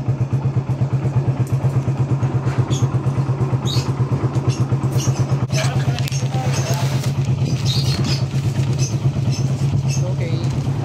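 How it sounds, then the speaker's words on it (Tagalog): Raider motorcycle engine runs close by with a steady, rapid pulsing idle throb, accompanied by occasional clatter and faint background voices. "ito nakuha na natin yung Raider natin na motor"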